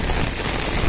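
Rain falls steadily at night during a fearful walk toward a river, a dense even hiss with no breaks and no voices, held at a constant level throughout.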